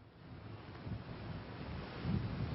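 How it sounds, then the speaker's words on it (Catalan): Strong storm wind gusting at the port of Sóller in Mallorca's Tramuntana during heavy rain, heard as a steady low rumbling roar with buffeting on the microphone, swelling near the end, no voices. "el més significatiu, és el fort vent que fa"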